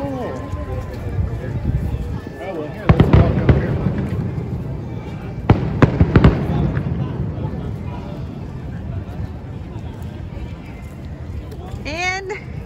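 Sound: fireworks

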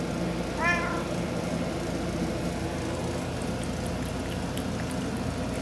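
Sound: cat meowing

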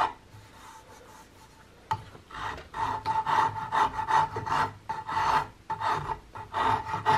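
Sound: coarse rasp filing a wooden gun buttplate area

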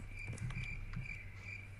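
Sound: edited-in cricket chirping sound effect

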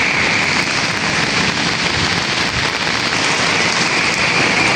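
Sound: rain

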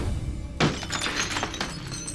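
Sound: glass being smashed to break into a house

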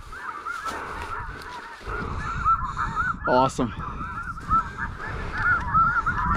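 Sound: snow geese honking

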